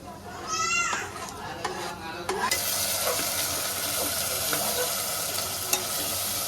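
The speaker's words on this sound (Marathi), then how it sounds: "कांदा मस्त आपला नॉर्मली फ्राय झालेला आहे. त्याच्यामध्ये आपण हा टॅमॅटो टाकू." Onions fry in a pan as tomato is added for a prawn biryani, a bright continuous sizzle that jumps louder after the tomato goes in, with stirring scrapes and voices over the top.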